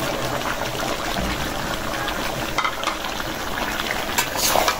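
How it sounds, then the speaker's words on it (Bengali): Two Bombay chillies go into a pan where onions and carrots are already frying, producing a loud, dense, continuous crackle and sizzle close by with occasional stirring clatter, and no voices. "আর দিয়ে দেবো এখন এই বোম্বাই মরিচ, 2টা বোম্বাই মরিচ দিলাম"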